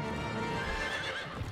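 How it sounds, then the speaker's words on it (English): Several horses neigh and whinny loudly in a LEGO The Lord of the Rings video game, with hoof clip-clop mixed into a dense, continuous burst. "May these horses bear you to better fortune than our former masters"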